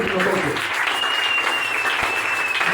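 Congregation applauding and acclaiming in a church service: dense, continuous clapping with raised voices and cheers, loud and close throughout.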